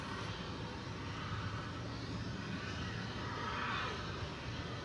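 A UPS MD-11 jet departing DFW Airport at night, a continuous broadband engine roar holding steady at moderate distance with a slight swell near the end.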